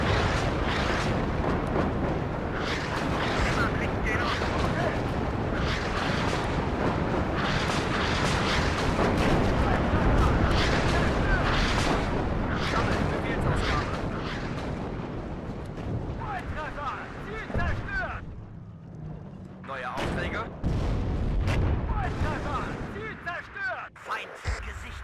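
Rocket artillery strikes in the WARNO wargame, a dense continuous barrage of booming impacts and rumbling explosions that rolls on for the whole stretch, briefly thinning before more blasts hit, with someone talking over the din.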